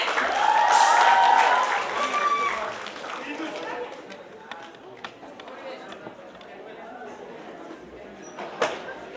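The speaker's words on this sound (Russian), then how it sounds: "Давайте приветствуем нашего дорогого гостя бурными аплодисментами!" An audience gives stormy applause to welcome a guest at a stage event, a loud burst of clapping with a whoop early on that eases into softer scattered claps and murmuring voices.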